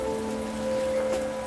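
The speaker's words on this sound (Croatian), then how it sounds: "Kiša ne prestaje padat od jutra." Steady rain falling through a wet morning at Kranjska Gora in the Slovenian Alps, a continuous even hiss with a faint constant tonal hum underneath and no voices.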